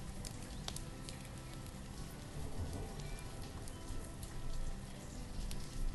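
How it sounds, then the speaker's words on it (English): Rain falls in the medieval town-building game Banished, a soft steady patter with scattered drops, quiet and continuous. "And it's raining, that'll probably help as well."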